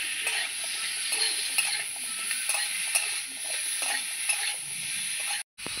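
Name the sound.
marinated chicken being stirred and fried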